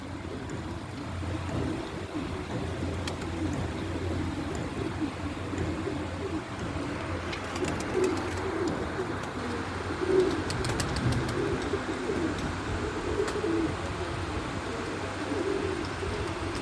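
Soft pigeon cooing repeats against a steady outdoor background hum, with a few faint chirps scattered through.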